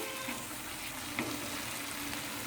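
Paneer masala is sautéed in oil for a cream paneer dish, a faint, even sizzle with one soft stirring knock partway through.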